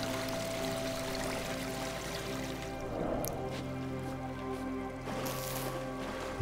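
Rushing water from a waterfall in the video game AER Memories of Old, a steady broad roar and splash blended with soft background music and tones, without speech.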